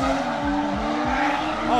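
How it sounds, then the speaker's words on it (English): Modified cars at the Empire Fest 2022 car show roaring past with revving engines and tire squeal, loud and close, as someone talks excitedly over them. "I hear cars coming right now."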